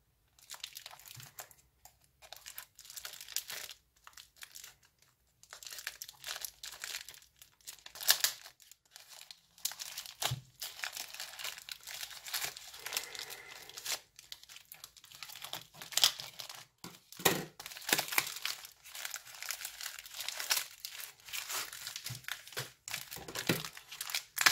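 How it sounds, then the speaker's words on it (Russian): Small parcel of craft-supply plaster moulds being unwrapped, with packaging crinkling and crumpling in bursts of rustle and soft tearing. The sounds stay close and fairly quiet, with short pauses between handling noises and no talking. "Маленькая посылочка. Давайте ее откроем."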